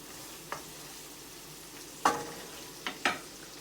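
Ground pork sautés quietly in a pan with a soft low sizzle, broken by a few sharp spatula scrapes and taps spaced apart.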